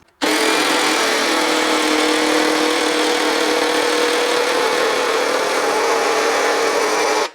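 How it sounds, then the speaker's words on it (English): An Evolution R90JGS-Li 18V cordless jigsaw cuts a heart shape out of a piece of pine: a loud, sustained high buzzing saw whine that starts abruptly and runs steadily for several seconds, with no talk. "I'm going to try and cut it out now with the jigsaw"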